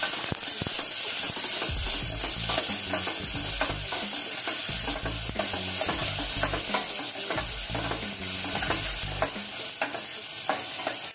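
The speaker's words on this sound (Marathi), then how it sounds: "गॅस कमी केलाय, कांदा चांगला परतून घ्यायचा" Chopped onion and curry leaves frying in hot oil in a pan over lowered gas, with a steady bright sizzle and repeated scraping stirs of a spatula, close and continuous with no voices.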